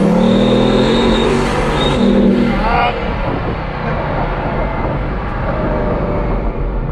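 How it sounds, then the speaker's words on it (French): A Bugatti supercar with a 1001-horsepower engine idles and runs at low speed while its tires are warmed in Dubai. The engine drones steadily and fairly loud, with a brief rising rev near the middle and a voice talking over it. "On est en train de chauffer les pneus, la mécanique."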